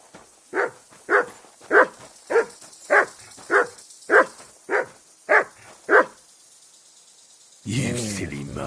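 A dog barks about ten times in an even rhythm, close and loud, in the video game Kingdom Come: Deliverance 2, then a voice speaks at the end.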